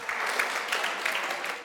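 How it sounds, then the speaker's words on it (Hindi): Audience applause at a Hindi comic poetry gathering, a dense steady burst of many hands clapping that fills the whole short stretch. "ताली जरा बजाओ रे।"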